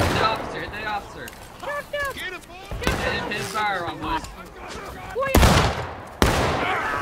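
Musket volleys crackle in the Civil War shooter War of Rights, sharp broadband shots going off in bursts amid constant shouting voices, with two loud close reports near the end.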